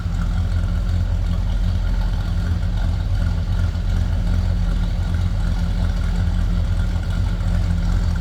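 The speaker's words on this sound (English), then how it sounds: "Nice little rumble coming out of that 350." A 1978 Chevrolet C10 Silverado with a 350 V8 idles with a loud, steady low rumble, unbroken for the whole stretch with no voices.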